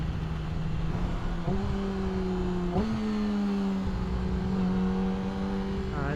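A car engine revs and climbs in pitch, shifting up twice with short drops, a steady drone heard from inside the car.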